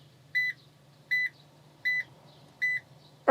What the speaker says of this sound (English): the sound that the buttons make for the air and whatnot